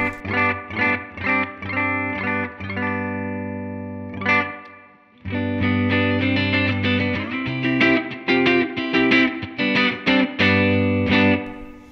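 Clean electric guitar on the bridge pickup, chords and picked notes, bright and twangy, ringing out with a brief pause midway, then continuing in steady strummed and arpeggiated phrases.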